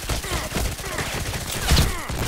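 Rapid gunfire from the online shooter Contract Wars, a dense burst of repeated shots with one heavier blast near the end, loud and close.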